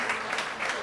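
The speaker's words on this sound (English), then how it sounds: "That big round of applause, everyone." Brief, faint applause rises from a live audience at The Exchange in Letterkenny during a morning radio broadcast, a soft, short burst of many hands clapping at a distance.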